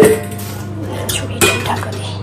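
A lid is set on a cooking pot with a couple of sharp metallic clinks and a clatter at close range, heard over a steady low hum.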